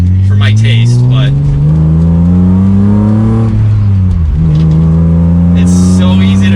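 A BMW M3 engine and exhaust under way, loud and close, with a strong droning note that climbs steadily as the revs rise, dips sharply at a gear change, then settles and pulls again.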